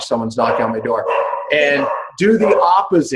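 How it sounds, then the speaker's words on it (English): A pet dog barks and yips in short bursts, close and loud, mixed in with someone talking over it. "That's my dog."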